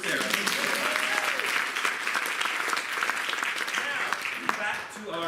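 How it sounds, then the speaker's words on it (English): A studio audience applauds, with dense, continuous clapping for several seconds and voices mixed in underneath before it starts to thin out. "Let's have a round of applause for Sarah."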